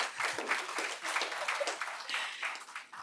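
A conference audience at the Indian Institute of Management, Bangalore, claps in a dense, sustained round of applause at moderate distance, steady throughout with slight swells.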